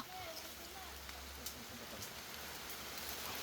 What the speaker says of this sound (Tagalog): At sakto naman, inaabot naman kami ng ulan.